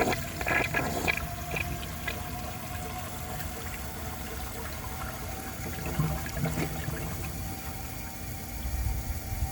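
A 1983 Crane Radcliffe toilet flushes a dish towel, with water rushing and gurgling close by at moderate level, trickling and sloshing continuously throughout with a few brief splashy knocks near the start.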